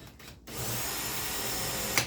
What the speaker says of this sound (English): we're going to drill into this first hole